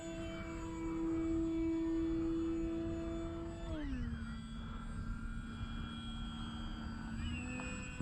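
An E-flite Maule M-7 RC airplane on 4S electric power does a touch and go on grass, its steady motor whine dropping in pitch midway as throttle eases, then droning on at a lower, continuous hum.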